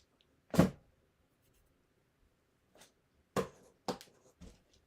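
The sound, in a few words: scissors cutting sheetrock tape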